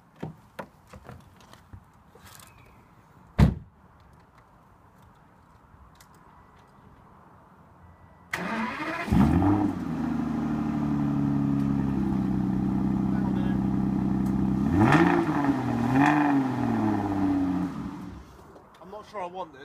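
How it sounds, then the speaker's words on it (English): An Aston Martin DB9 Volante fires up after a sharp knock, and its engine settles into a loud, steady idle with two revving surges. People talk over the start of the clip. "The Aston Martin DB9 Volante."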